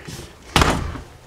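Bunk room door inside a 2009 Puma 30DBSS bumper-pull travel trailer shutting with a single close, solid slam and a brief rattling tail, no voices.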